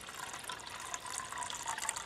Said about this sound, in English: Always give the pot a good rinse, even though it's clean.